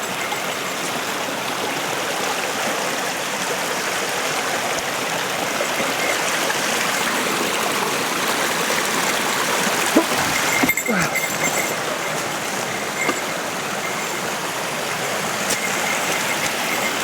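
A small waterfall by an eroded trail at an abandoned tea farm in Japan sends a continuous, close wash of running water, with a couple of brief knocks and rustles midway and no talk.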